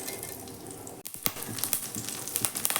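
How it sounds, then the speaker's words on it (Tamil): Mustard seeds spluttering in hot oil in a pan for vegendakai thugayal, a steady close sizzle broken by sharp pops and crackles that grow denser and more frequent after a brief lull. "கடுகு நல்லா பொரியட்டும்."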